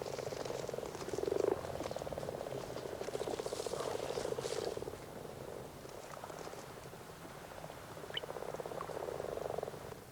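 A male frog in a cold pond gives a steady, continuous purring croak that swells and fades slightly. It sounds close and is soft in level, with faint background sound and no voices.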